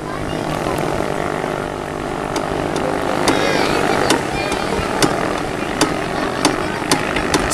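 A racing boat with a 7HP stock piston engine roars past during a stock piston category race, a loud, continuous buzzing drone dotted with sharp, regular clicks and ticks.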